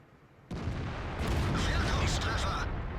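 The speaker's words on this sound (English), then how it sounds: "105mm gun, and he's missing all over the place" A 105mm tank gun fires in World of Tanks, a sudden loud boom followed by a rumbling, crackling roar that fills the rest of the moment.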